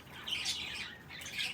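Quail kept on a farm in cold weather call in two short bursts of squawking, moderately close and alone with no talk.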